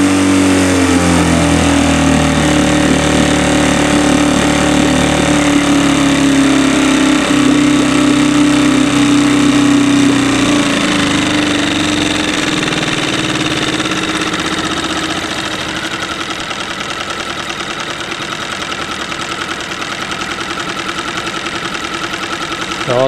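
A Parsun 2.6 outboard motor runs loud and close, its buzzing drone easing down as the throttle is backed off, settling into a slower, rougher idle with a knocking edge.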